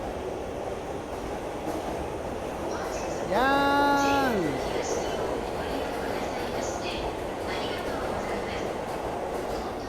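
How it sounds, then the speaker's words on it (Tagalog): A long train rumbles past steadily in Tokyo, Japan, with a person's short exclamation rising over the noise midway. "Ayan, ang haba ng tren yun, di ba?"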